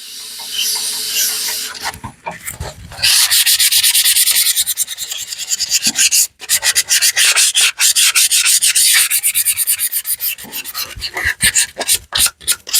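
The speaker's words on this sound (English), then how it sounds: "we're finishing up sanding here. Got it pretty well sanded up. Doing a little 220." Wood being hand-sanded with 220-grit sandpaper gives a loud, close, steady rasping that moves back and forth in quick rhythmic strokes, with a short pause partway through and no voices.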